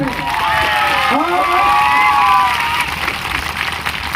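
A large audience clapping loudly and cheering, with high shouts and whoops rising over a thick, sustained wall of applause that swells mid-way and then eases slightly.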